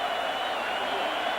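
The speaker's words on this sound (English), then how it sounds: "Oh, the crowd beseeching Ray Rhodes to go for it." A large NFL stadium crowd at a 1995 playoff game roars in a steady, continuous wash of cheering and shouting, loud and unbroken throughout.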